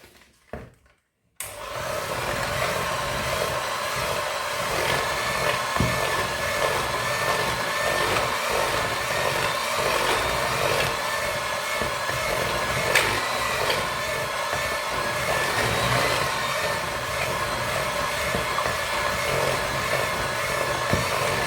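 An electric mixer whisks coffee and walnut cake batter with a loud, steady motor whir that starts abruptly after a brief quiet moment and runs continuously, with no talking.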